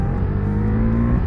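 A loud, steady engine drone with a deep, even tone, like a motorcycle roaring nearby in traffic; no voices.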